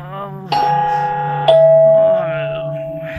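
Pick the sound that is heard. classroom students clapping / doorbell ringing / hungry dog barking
doorbell ringing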